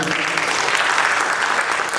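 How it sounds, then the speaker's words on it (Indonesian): Dense, steady applause from an audience at a contemporary dance performance, loud and continuous across the whole stretch without letting up. "Sekali lagi tepuk tangan untuk Iqbal."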